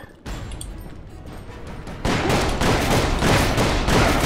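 Gunfire from the Call of Juarez PC game, a dense continuous burst of shots and impacts that grows louder midway and carries on steadily to the end with no speech.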